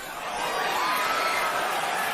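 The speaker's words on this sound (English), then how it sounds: "Crowd oohs and ahs as again Canelo lands the left." Boxing arena crowd at a bout between Canelo Alvarez and Amir Khan, a steady dense roar of cheering and oohing from a large audience reacting to a landed left, sustained throughout at even loudness.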